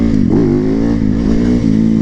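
An Italian motorcycle engine revs hard at close range, a steady loud roar with brief throttle swells, and no talking.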